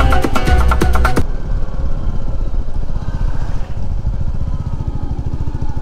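A motorcycle riding on a hilly road on the way to Ayodhya Hill in Purulia, its engine giving a steady, close, rumbling pulse throughout, with music at the start that cuts off abruptly.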